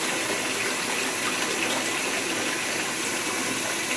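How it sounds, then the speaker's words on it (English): Water gushing steadily from a tap or hose into a container holding cube rocks as it fills, a loud, continuous broadband rush with no pauses. "It's got a pretty good amount of water coming out of there."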